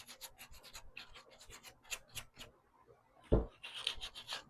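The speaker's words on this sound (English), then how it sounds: "I'm just going to take some 220 sandpaper." Rasping strokes of 220-grit sandpaper worked by hand over a painted thrift-store piece, a quick series of short close scrubs followed by a sharp knock and a few more faint passes.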